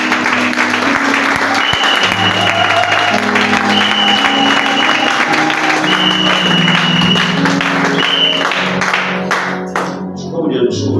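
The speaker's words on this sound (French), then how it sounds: "Acclamons maintenant la parole." Church congregation gives sustained applause for the word at a worship service, dense loud clapping with cheers and voices mixed in. Music plays over it the whole time, and the clapping thins out near the end.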